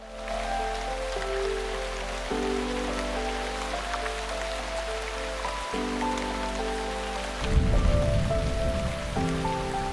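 Steady game rain falling on Lightbringer Isle in Shroud of the Avatar, a constant hiss layered under tonal background music, with a rougher, louder patter near the end.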